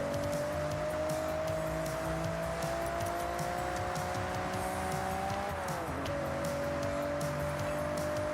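A race car in a racing video game roars at a constant high engine pitch while its tires squeal and skid, the whine dipping briefly before settling again, loud and alone.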